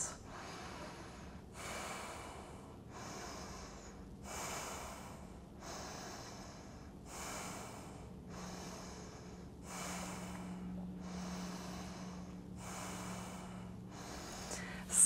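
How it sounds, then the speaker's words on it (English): Slow, deep breaths drawn during a seated shoulder and upper back stretch, about ten steady inhale-exhale cycles at an even rhythm, close and fairly soft, with no talking. "I'll take just a couple more breaths"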